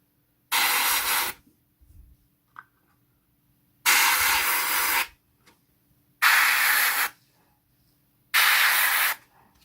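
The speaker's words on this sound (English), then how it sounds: "Now I can come in with the other stencil and spray on a few different lines." Airbrush paint spraying through a stencil onto a Battlestar Pegasus scale model, four short hissing bursts about a second each, separated by quiet gaps with faint handling clicks, close and fairly loud.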